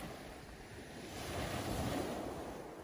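Ocean surf rolls in and recedes in a steady wash, swelling louder toward the middle and easing off, with a soft wind hiss over the continuous roar and no voices.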